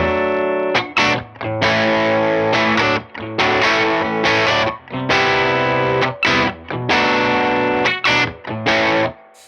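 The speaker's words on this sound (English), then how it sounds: "this is an LED distortion" Electric guitar through a Whimsy Machines Sweet Tooth LED distortion pedal, heavily distorted, plays loud chords in bursts with brief gaps, thick and buzzy throughout, no voices.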